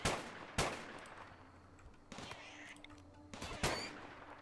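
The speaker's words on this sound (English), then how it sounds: "And the turret can shoot that as well." Automated turret gunfire from the colony-sim game RimWorld during a hunt: several sharp separate shots spaced over a few seconds, with soft game ambience between them and no talking.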